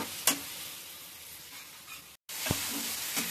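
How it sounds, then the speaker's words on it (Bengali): Masala spices cook down in oil with a little added water, a steady close sizzle and hiss that cuts out briefly, with a few sharp stirring clinks over the frying and no talking. "এবারে এটাকে ততক্ষণ কষবো যতক্ষণ না এটা থেকে পুরোপুরি তেলটা বেরোচ্ছে"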